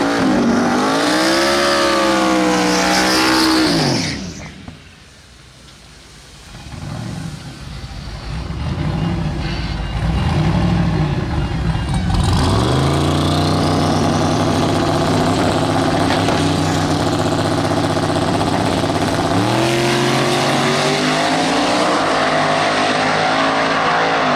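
A big turbo Miata and a truck drag racing, with loud, sustained engines revving and roaring close by. A brief drop in the middle gives way to steady high-rpm howling with rising and falling pitch, and no talking.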